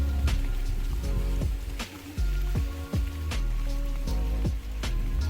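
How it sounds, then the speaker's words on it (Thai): Rain falls at a hillside café and lodging with a view, a steady close patter with dull, regular drips thudding onto a surface throughout. "ฝนตก"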